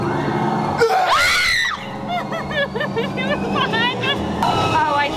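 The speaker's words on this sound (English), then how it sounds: "Oh, I hear screams." Frightened screams and shrieking voices ring out in a pitch-black haunted attraction, loud and close, with rapid high wavering cries layered over a noisy babble of people.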